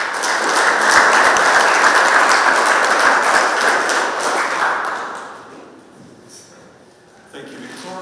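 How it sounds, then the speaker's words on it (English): An audience applauds the speakers at the close of a session of the MINEX Europe 2024 mining forum, loud dense clapping that fades out over several seconds, followed by a quieter stretch and a few faint sounds at the end. "applause to our speakers"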